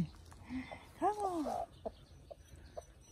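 Chicken clucking outdoors, with a short burst of rising and falling clucks in the middle and a few fainter isolated clucks afterward against quiet background.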